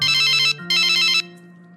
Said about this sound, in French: Mais oui Laura, j'appelle sa cousine.